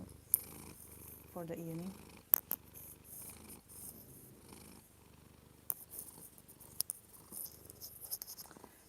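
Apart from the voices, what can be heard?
cat purring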